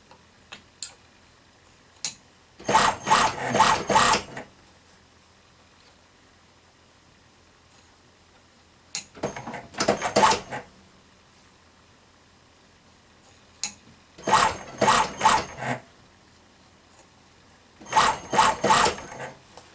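A sewing machine stitches a fur stole in four separate bursts of rapid mechanical ticking, each lasting about a second or two, with quiet pauses and a few light clicks between runs.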